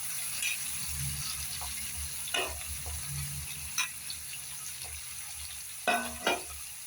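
Bitter gourd frying in a pan, a steady background sizzle with several sharper bursts of crackling and stirring scrapes near the middle and end, close and alone with no talking.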